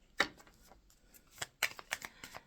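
Tarot cards being picked up and riffled, several crisp flapping bursts and quick papery flutters close to the mic, with short pauses in between.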